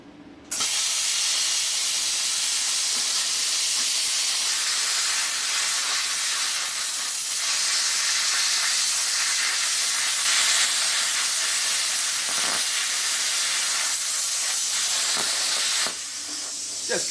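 A pilot arc plasma cutter cuts through a filthy steel table with a steady, loud roaring hiss that runs almost unbroken for about fifteen seconds before cutting off near the end.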